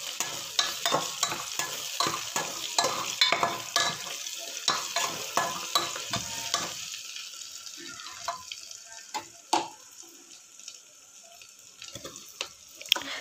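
Salted mushrooms and spices get stirred and fried in a pan: a busy run of spatula scrapes and clatter over sizzling, easing after about seven seconds into quieter, sparser stirring taps.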